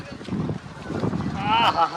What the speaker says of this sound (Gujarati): પવન જોરદાર આવે ભાઈ